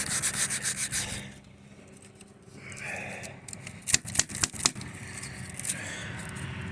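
Close hand sanding on a 1951 Chevy Deluxe, with brisk rubbing strokes of sandpaper that pause, then return as a few sharp scuffs and taps before steady scraping resumes.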